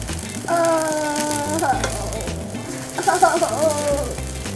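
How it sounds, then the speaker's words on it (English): Chopped garlic and noodles fry in a wok for halal Hokkien mee with prawns, giving a steady close sizzle with stirring scrapes throughout, while a voice or tonal sound rises over it in two stretches. "We're going to add in some chopped garlic and we're going in with our noodles."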